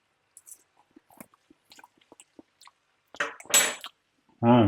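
Someone chews a bite of cabbage halushki made with kale, pasta and butter: soft, scattered mouth clicks at first, then a louder breathy burst and a short voiced murmur at the end.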